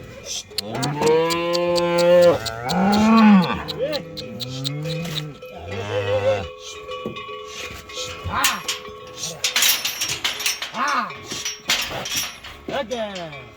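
Loud, drawn-out cow moos repeat up close over a few seconds, with people talking in the background and occasional metallic clinks.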